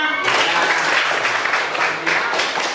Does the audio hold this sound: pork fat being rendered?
no